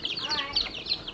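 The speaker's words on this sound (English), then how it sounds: "This is the first time the chickens have been outside." Two-week-old baby chicks peeping and clucking in an outdoor brooder, a quick run of high, close chirps repeating over about a second.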